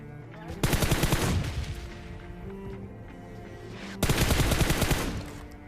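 An AK rifle in PUBG Mobile fires two rapid bursts of close, loud shots, each lasting about a second, with a quieter gap between them.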